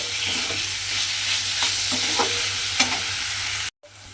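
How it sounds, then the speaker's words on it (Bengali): Paneer and pointed gourd stir-fried in a pan without water, a loud continuous sizzle with repeated spatula scrapes and stirring knocks, then an abrupt cut to near silence at the end. "পনিরটা দিয়ে আমি এইভাবে নেড়ে নেড়ে 5 থেকে 7 মিনিট মতো একটু রান্না করে নিয়েছি।"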